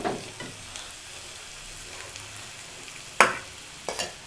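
Onion and capsicum frying in a pan for Mumbai street-style pav bhaji, a soft steady sizzle with a few sharp clinks and scrapes of a spoon against the pan, close and without voices.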